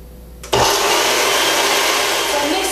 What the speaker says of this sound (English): Everything in the blender and made it turn into a nice puree